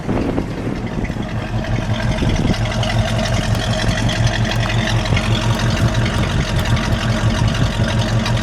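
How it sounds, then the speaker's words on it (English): A steady, loud idle from the 289 V8 of a 1967 Ford Mustang Fastback, with a deep, rumbling exhaust note, continuous and close throughout with no talking. "Can we let it idle? Can we get the exhaust note?"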